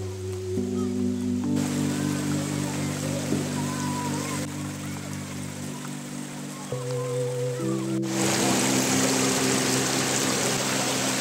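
Flowing water at a water park in Assam keeps up a steady rushing wash throughout, mixed with sustained tonal music-like sound that shifts midway and brightens toward the end.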